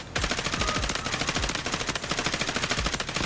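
Rapid automatic gunfire from a costly skinned gun in the shooter game Delta Force, a loud continuous burst of closely spaced shots with a regular rhythm and no talk.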